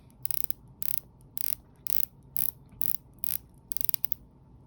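The rotating bezel of a Tudor Pelagos LHD dive watch is turned slowly. It gives about eight short bursts of crisp ratchet clicks in a steady stop-start rhythm, close and quiet against a faint background.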